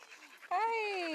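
A dog close by gives a short breathy panting whimper, a brief high whine that follows a moment of soft background sound.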